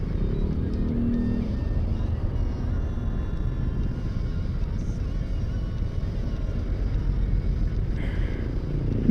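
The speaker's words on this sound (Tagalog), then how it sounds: "Uy, traffic ah." Road traffic heard from a vehicle riding solo toward Pangasinan near Luisita Mall, a loud continuous engine and road rumble throughout, with brief talk in the background.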